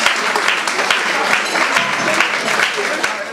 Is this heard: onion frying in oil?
no